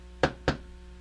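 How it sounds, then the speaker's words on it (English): Two crisp knocks at a door, about a quarter second apart, sharp and fairly close, with nothing else around them. "there's a knock at the door."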